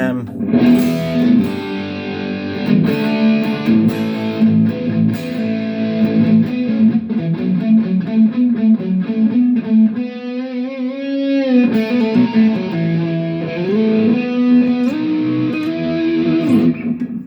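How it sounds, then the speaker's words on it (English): Heavily distorted bass-style tone through a bass distortion effect on a Valeton GP-100 guitar processor, loud and continuous with sustained chords and riffs and a brief bend or swell near the middle. "Oh, that's a bass distortion."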